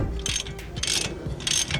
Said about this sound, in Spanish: Con un dado de 19 milímetros estamos aflojando aquí